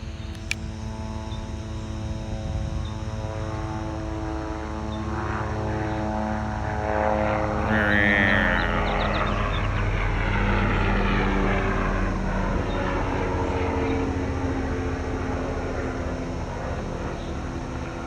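A propeller airplane passes high overhead at sunset in Arizona, a steady droning hum that swells and shifts in pitch as it crosses, lasting the whole stretch with no voices.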